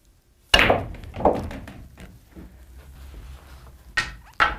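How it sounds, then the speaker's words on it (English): A cue ball breaks into three billiard balls during a vintage pool trick shot on a pool table. Two hollow knocks open it, then balls roll quietly and several more crisp clacks follow near the end, with no talking. "I'm going to shoot and make all 3 balls"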